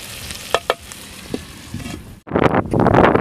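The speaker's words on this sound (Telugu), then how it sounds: "టమాటా మెత్తగా వేగడానికి కాసేపు మూత వేసుకుందామండి" Tomatoes with salt frying in a pan for a dried prawn and egg curry: a few light stirring clicks over a low hiss, then a loud, steady, close sizzle surges in and holds.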